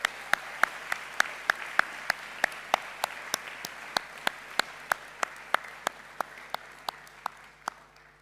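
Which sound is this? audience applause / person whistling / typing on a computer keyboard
audience applause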